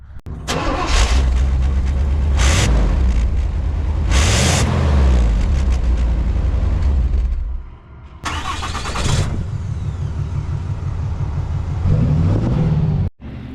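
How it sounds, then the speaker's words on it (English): A 5th-gen Ram pickup with a Cummins diesel and an OBS Chevy truck start up and rev, with loud engine cranks, sharp rising revs and idling rumble. Between them comes a pause and a quick restart near the end. "the Ram sounds good on startup, but it does not sound good during the rev ups or idling"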